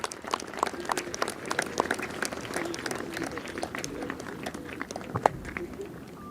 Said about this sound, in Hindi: फिर से तालियां हो जाए, ये आवाज बहुत कम आ रही है तालियों की